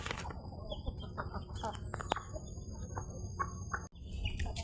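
Chickens cluck and chirp close by in a busy, overlapping chorus, with sharp pecking and scratching sounds mixed in.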